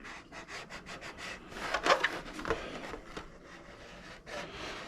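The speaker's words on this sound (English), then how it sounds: "usually take your fingernail, sort of burnish the edges a little bit" Lexan R/C body edges are burnished with a fingernail or credit card, producing soft, close scraping and rubbing strokes in an uneven rhythm, with a few slightly louder scratches in the middle.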